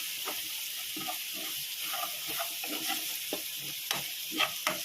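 Masala with chili powder sautéing in hot oil for a fish curry, a continuous soft sizzle broken by scraping stirs of the spoon against the pan, close and with no talking.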